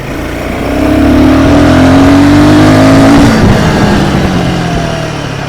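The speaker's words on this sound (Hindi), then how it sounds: "जैसे ही आप थोड़ा सा रेस दोगे, ठीक है, आपको फील होने लगेगा कि इस गाड़ी में पावर" A 2024 Royal Enfield Guerrilla 450 motorcycle engine revs up close and loud, climbing in pitch under hard acceleration for a few seconds before easing off to a lower, steady drone; no talk.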